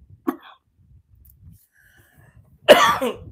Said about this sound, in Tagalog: Ay, lintik na ubo.